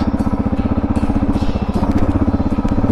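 A Suzuki DRZ400 dirt bike geared 15/38 climbs a rocky single-track trail, its single-cylinder engine giving a loud, close, rapid pulsing chug that holds steady throughout, with no voices.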